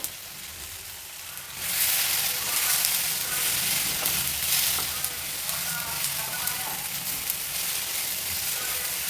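Ivy gourd fries in hot oil with cumin and curry leaves in a pan. After a quiet start, a loud, steady sizzle bursts in and keeps crackling evenly with faint stirring.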